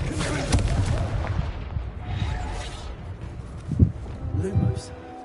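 In the Hogwarts Legacy video game, a Confringo spell sets off booming blasts and rumbling explosions, a heavy burst near the start and more bangs and crackles later, with a voice calling out over the game sounds.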